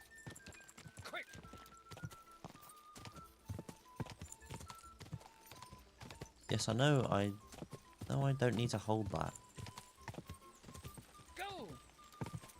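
Horse hooves clip-clop in a steady, repeated rhythm in Kingdom Come Deliverance 2, with a horse neighing and voices talking over them; the hoofbeats stay moderately loud throughout.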